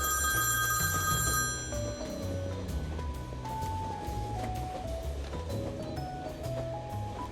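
An electronic telephone bell rings shrilly for a moment in the video game Beholder Conductor, then gives way to a steady melodic tune with a low rhythmic backing.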